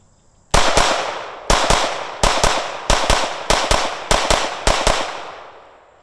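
A Shadow Systems CR920XP micro compact pistol fired outdoors in quick pairs and triples, about fifteen sharp, loud cracks with short echoing tails, grouped in rhythmic strings with brief pauses between.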